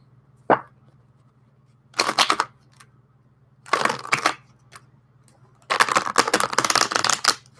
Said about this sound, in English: Tell I ain't shuffled no cards in a minute.